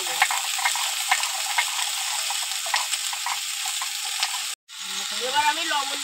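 Pre-fried pond prawns are dropped into a hot pan for a Bengali pui shak dish, producing a steady close sizzling hiss that briefly cuts out before a voice and softer cooking sounds follow.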